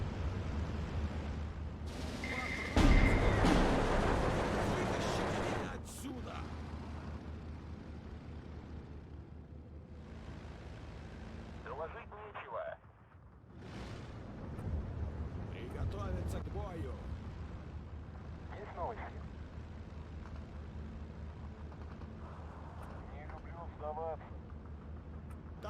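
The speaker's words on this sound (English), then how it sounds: "Actually took out a lot of men there in that strafing run" WWII P-40 fighter planes make a strafing run in the Steel Division 2 strategy game: a sudden loud burst, then roaring engines and rumbling explosions that fade, with someone talking over much of it.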